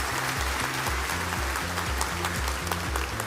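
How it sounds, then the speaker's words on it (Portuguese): Applause from a keynote audience at a technology conference, a steady dense patter of clapping that continues evenly throughout, with a repeating musical tone pattern playing underneath it. "Então eu queria uma salva de palmas para essa funcionalidade incrível"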